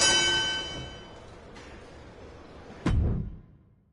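A wrestling ring bell in the video game WWE2K26 rings with a bright, ringing tone that fades, then strikes again with a sharper clang about three seconds later.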